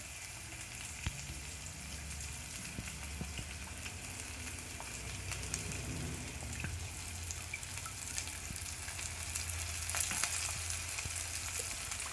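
Four fish pieces frying in hot oil give a steady, even sizzle that carries through the whole stretch, close and alone with no talk.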